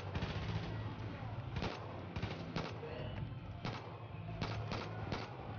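Rapid bursts of gunfire in the Far Cry 5 video game, several sharp shots in quick clusters over a constant background of game sound.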